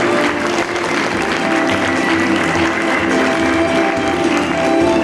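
Loud, continuous applause from the audience at the World Photographic Cup 2017 award ceremony honouring finalists and medal winners, a thick, unbroken field of clapping with a hum beneath.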